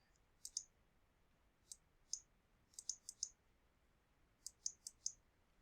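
A computer mouse clicking close and quiet, with a dozen sharp clicks that come singly and in quick double-click pairs against near silence.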